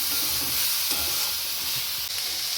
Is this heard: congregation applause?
no